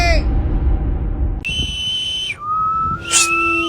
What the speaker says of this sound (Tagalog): Huwag na kayo sumipol.